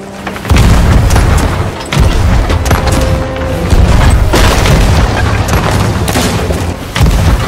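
Heavy ship cannon fire in the pirate video game Sea of Thieves, a string of loud booming blasts in quick succession with rumbling tails, close and dominant throughout.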